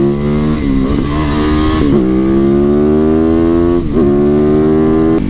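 A motorcycle engine pulls hard as the throttle is opened on a street ride, its pitch rising through a gear, dipping at each shift and climbing again, loud and close with wind rush beneath.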